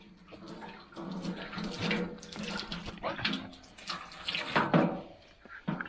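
Water pours into a copper bath vessel for a dog's bath, a splashy running gush with bursts and swells, while people talk over it.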